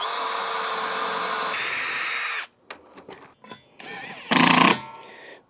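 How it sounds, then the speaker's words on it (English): A drill cuts a new hole in aluminum deck railing: a loud, rough grinding run, a few short broken bursts, then one more brief loud burst. "I'm going to drill a new hole here"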